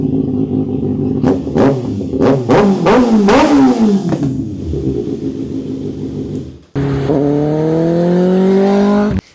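A kei truck fitted with a swapped Suzuki GSXR1000 motorcycle engine revs in several sharp, rising blips with throttle snaps, then settles before a steady high idle rises smoothly, loud and close with no talk.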